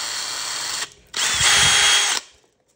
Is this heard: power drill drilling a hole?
yes